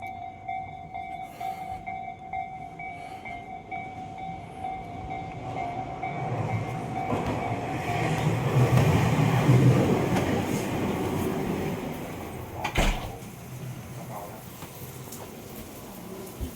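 A train pulls out of a railway station in Japan, its rumble swelling to a peak then easing off, with a sharp clunk near the end and a steady tone behind it; a voice speaks faintly underneath.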